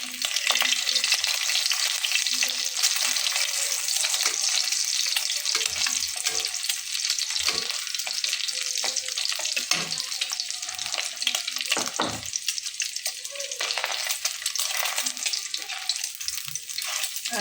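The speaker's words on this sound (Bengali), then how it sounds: "একটা ডিম ভেজে নেব" Oil sizzles and crackles steadily in a pan as an egg fries, a continuous hiss with occasional stirring sounds and no speech.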